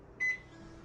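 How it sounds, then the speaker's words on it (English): A microwave oven running to melt a tablespoon of butter, heard as a short clear beep tone followed by the steady low hum of the running oven. "You're going to need to microwave and melt 1 tablespoon of butter."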